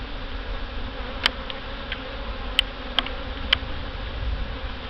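Honey bees around a hive during a mid-July inspection make a steady, low buzzing drone throughout, with a few sharp clicks rising above it.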